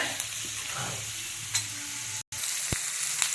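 Garlic, curry leaves, chili and cumin crackle and sizzle in hot oil in a pan while being stirred, with a steady frying hiss and a few sharper spatters and scraping clinks, no voices.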